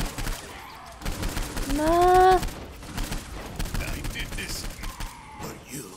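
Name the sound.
gunfire from a video game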